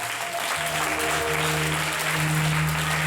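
A church congregation bursting into loud applause, dense continuous clapping from many hands with a sustained musical tone underneath, filling the space throughout.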